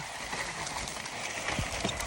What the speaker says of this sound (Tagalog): nakasakay tayo sa kalabaw oh